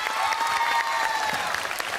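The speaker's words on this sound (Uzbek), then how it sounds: "Zo'r, ko'rinishingiz zo'r, qo'shiq ham zo'r olqishlab qo'yamiz" A television singing-show audience claps steadily after a song, a dense, even round of applause with no voices standing out.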